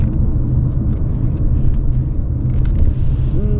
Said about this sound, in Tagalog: we're stuck in the traffic for 6 minutes